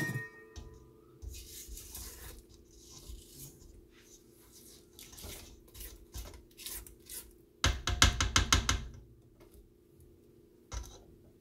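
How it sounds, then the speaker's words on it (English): Spatula scraping the sides of a bowl of pineapple upside-down cake batter, quiet intermittent rubbing and scraping strokes with a burst of quick rapid scrapes near the end. "we're gonna stop and we're gonna scrape the sides right quick"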